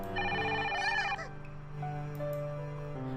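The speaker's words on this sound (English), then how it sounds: "Through the door, I heard the sound of not only Kagura's ringtone, but also a surprised cry." A cell phone ringtone in a visual novel game plays a bright, tonal electronic melody, steady and fairly clear, with the tune shifting pitch partway through as the ringing continues.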